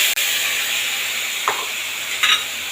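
Water poured into a ginger, chilli and cumin paste frying with salt in hot oil, giving a loud, continuous close hiss with a couple of brief splashy bursts.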